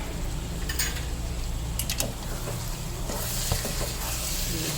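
A spoon stirs beef keema frying with garam masala in a Hyderabadi-style pan, a dense, steady sizzle with occasional scrapes and light clinks, close and continuous throughout.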